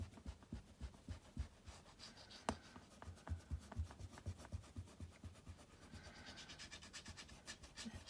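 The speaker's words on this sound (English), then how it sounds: "I'm just going to gently rub out this line" An eraser gently rubbing out a pencil line on card, close and quiet, with a steady rhythm of soft scratchy strokes and light taps.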